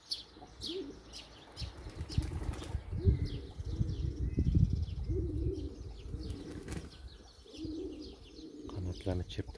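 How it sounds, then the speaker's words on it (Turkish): Pigeons going through their moult flap their wings in bursts of fluttering, mixed with soft cooing and occasional chirps, fairly close and moderately loud. "Kanatlarını çırptıkları zaman toz belli oluyor."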